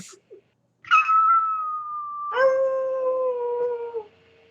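A dog lets out two long, sustained howls, the second lower and fuller, close by with near silence around them.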